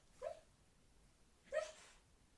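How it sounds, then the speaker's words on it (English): Dog lying close by, asleep and dreaming, letting out two soft muffled woofs about a second apart in an otherwise quiet room. "That was the dog lying next to me barking in her dream."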